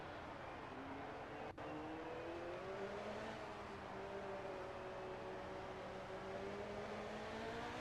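An F1 car engine in the F1 2018 video game, a steady whining drone with slowly shifting pitch holding throughout, even and continuous at moderate level, no talk.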